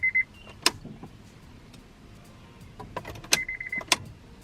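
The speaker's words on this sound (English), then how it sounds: "You hear the fuel pump prime." A Honda Prelude BB6 fuel pump primes with a thin electric whine, short at the start and longer near the end, set among a few sharp clicks in an otherwise quiet car.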